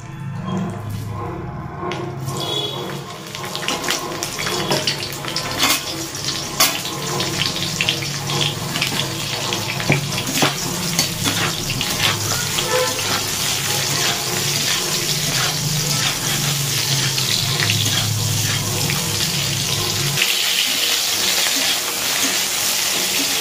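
Cauliflower pieces fry in hot mustard oil in a wok, giving off a loud, steady, hissing sizzle with crackles that runs continuously and eases slightly near the end.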